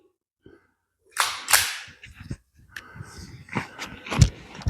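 Gunshots from a Ruger LCP .380 pistol fired close to the body, two sharp loud bangs in quick succession followed by several further impacts and handling clatter, with a brief exclamation around them.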